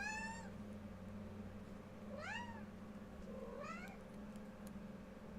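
A cat meows three times, with long rising and falling cries spread a second or more apart, clear and fairly close over a low steady hum in an indoor room.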